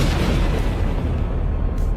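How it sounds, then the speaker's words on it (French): A loud, sustained explosion effect in a tabletop role-playing session, a dense low rumbling boom that fills the whole two seconds without letting up. "Et en provenance du spa, vous entendez une explosion."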